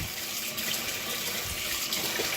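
Hot water poured into a peat moss based potting mix, a steady, fairly loud splashing stream with no talking.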